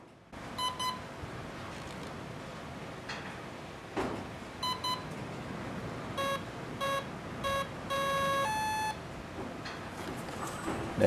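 An electronic speed controller on a model plane beeps through its calibration, giving clusters of short, clean electronic tones in varied patterns and pitches, close by against a quiet background.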